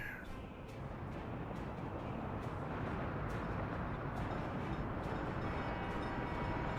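Box train rolling along a rail line in the Soviet-era city-building game Workers & Resources: Soviet Republic, a steady dense rumble with periodic clacks, plus cawing crows from the game's ambience layered over it.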